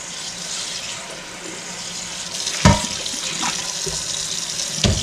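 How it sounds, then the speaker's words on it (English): A bowl of radish greens rinsed under a running kitchen tap: steady close splashing water flow throughout, with a couple of sharp knocks of the bowl against the sink. "Just gonna give this bowl a little quick rinse, get some of that dirt on it."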